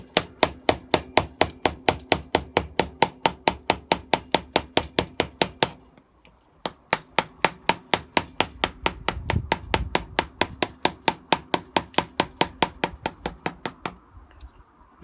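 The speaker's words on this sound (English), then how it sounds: "if I were to really try to hammer on it with the mallet and this chisel" Steady rhythmic knocking of a mallet on a chisel while carving a wooden feast tray, dozens of sharp close strikes in quick even succession with a brief pause midway.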